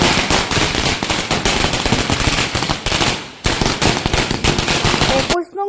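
Dense, rapid strings of firecrackers crackle and pop continuously outdoors at a BJP celebration, loud and close, with a brief pause midway and crowd voices faintly under the bursts.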